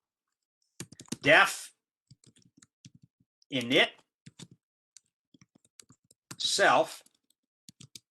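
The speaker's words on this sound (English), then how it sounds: "Boy, I'm typing terribly today." Computer keyboard typing during a university programming lecture, heard as scattered light clicks and taps spread through the clip, alternating with short bursts of someone speaking.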